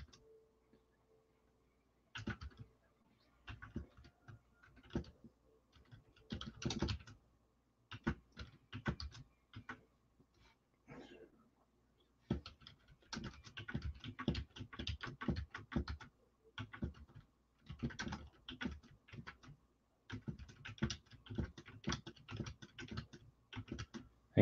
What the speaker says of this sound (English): I'm typing the names in here for the Chrome.